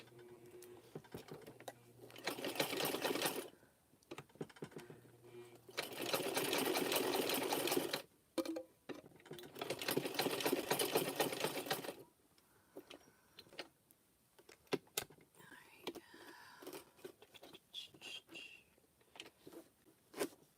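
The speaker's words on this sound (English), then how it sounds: "It's one thing about this sewing machine that the feed dogs are way sharper than my baby lock" Sewing machine with sharp feed dogs stitching a rope chain, three loud bursts of rapid motor whirring separated by pauses, followed by quieter clicks and handling of the rope.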